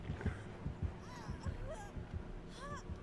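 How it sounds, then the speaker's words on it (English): Terror-radius heartbeat from the Dead by Daylight horror game, a steady low double thump repeating about every half second, loud and close, with faint higher game tones and chirps layered above it. "I just heard the heartbeat."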